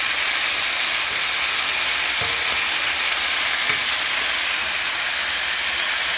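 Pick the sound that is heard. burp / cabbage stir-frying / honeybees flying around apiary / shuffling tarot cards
cabbage stir-frying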